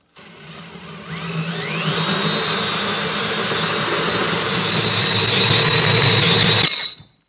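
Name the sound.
cutting off a mower pulley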